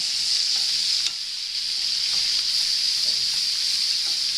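Steak sizzling loudly and steadily in butter with loose pine leaves in the pan, a constant close frying hiss with faint pops and crackles.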